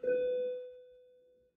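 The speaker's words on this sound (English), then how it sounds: "Sorry for the bell there." A single bell strike rings out clearly in a quiet room, a bright metallic ding with a sustained pure tone that slowly decays over about a second and a half, heard alone with no talking.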